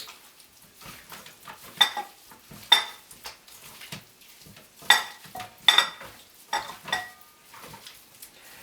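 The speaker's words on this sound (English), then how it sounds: "we're going to work our marinade in" A hand working marinade into meat in a bowl gives soft squelching and wet slaps, punctuated by sharp clinks against the dish at an irregular pace, close up and without talk.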